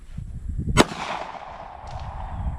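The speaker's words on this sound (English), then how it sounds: "So I'm out here, and I shoot, right?" A single loud, sharp pistol shot cracks out at an outdoor shooting range, followed by a short echoing tail over light background noise.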